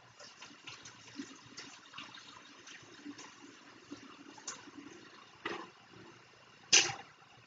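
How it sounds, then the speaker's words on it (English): Water drains out of a small pond model of sediment into a classroom science sink, a low steady trickle with a few louder gurgling splashes near the end. "Let's drain this out here in our science sink."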